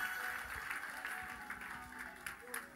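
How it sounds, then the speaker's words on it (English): Faint audience clapping at a church service, a soft, steady patter of many hands heard from a distance with some background murmur. "Oh, look at the way you are clapping."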